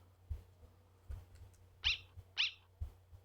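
Two short, high squeaky yips from the small dog in Undertale, game sound effects spaced about half a second apart over a steady low hum and a few soft thumps.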